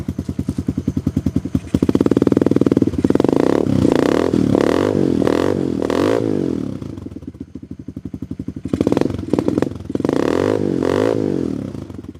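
A Tao Tao Coleman 125 ATV engine running with a new silencer, idling with a rapid putter, then rising into several loud revs with a raspy throaty exhaust note, dropping back to idle between bursts, close by.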